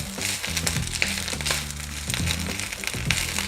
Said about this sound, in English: Oh, I love that sizzle.